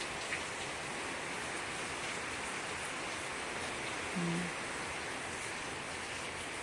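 Soft, steady rainfall hissing evenly throughout, with a brief faint tone partway through.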